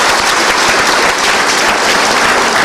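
Studio audience applause on an Indonesian talk show, dense loud clapping that fills the whole stretch at an even level.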